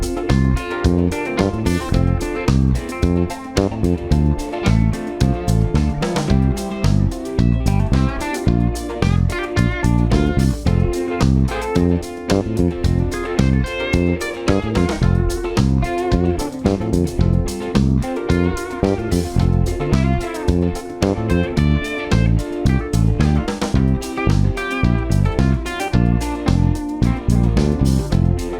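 Electric bass guitar plays a level 4 groove over a dense backing track, busy rhythmic low notes with contrasting figures running continuously for about half a minute, close and full.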